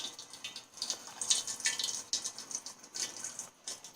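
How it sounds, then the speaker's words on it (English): Mead ingredients are poured into a container, giving a soft, close, continuous trickle with small splashy drips, fairly faint, with no talking. "Now you start pouring everything in."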